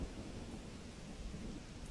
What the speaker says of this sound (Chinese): 没多久便是一阵大雨倾盆而下